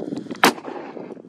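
A large firecracker of the corsar type explodes in one sharp, loud bang, with faint background rumble before and after.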